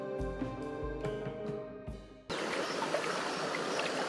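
Kacha river water rushes over stones in its bed near the village of Aivovoe, a steady broadband flowing roar filling the second half after a stretch of tonal sound, no speech.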